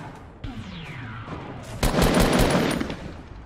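Gunfire in the video game Fortnite: a quiet stretch of game sounds gives way to a loud, dense burst of rapid shots that runs for over a second before fading.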